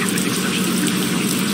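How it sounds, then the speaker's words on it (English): Heavy rain pours steadily at night, a dense, even hiss of drops hitting surfaces close around, continuous and alone with no voices. "Yo, it's cats and dogs tonight. I hate rain."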